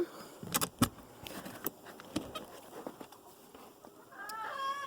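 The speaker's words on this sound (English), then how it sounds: "And there's a chicken right now." A half Phoenix, half Bantam Dominique hen clucks in a chicken coop in winter, with a few short close clucks and clicks, and a rising squawk toward the end.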